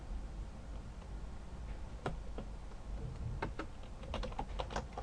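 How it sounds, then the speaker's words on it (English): A password being typed on a computer keyboard while setting up a Cisco network switch: quiet, close key clicks come in irregular bursts, sparse at first and quicker toward the end, with no talking. "Now we're going to type in password"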